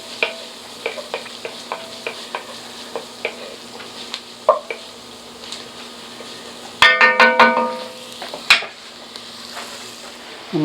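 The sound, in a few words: garlic and chicken corn chowder ingredients cooking in a pot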